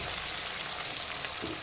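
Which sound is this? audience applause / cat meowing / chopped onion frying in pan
chopped onion frying in pan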